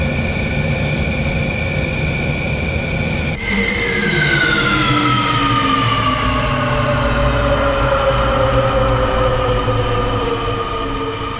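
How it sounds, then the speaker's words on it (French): Twin jet engines of a Rafale Marine fighter spooling down in Microsoft Flight Simulator at the Paris Air Show, a loud whine dropping steadily in pitch after a sudden change, with a high-pitched tone and faint repeating beeps persisting. "on va couper les moteurs"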